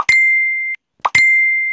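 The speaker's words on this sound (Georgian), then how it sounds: "როდესაც messenger-ს დააყენებ და აქვს ესეთი ზარი" The Facebook Messenger call ringtone sounds as a clear, bright electronic tone, with a short plop followed by a long sustained ding, played twice in close succession.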